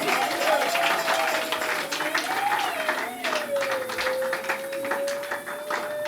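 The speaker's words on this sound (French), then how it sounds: "Exagère en acclamant Jésus." Church congregation at a Sunday service applauding and acclaiming Jesus, continuous clapping and crowd noise with a sustained sung or shouted voice ringing over it throughout.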